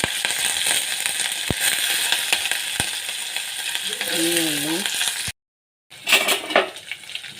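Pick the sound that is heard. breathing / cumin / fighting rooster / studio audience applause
cumin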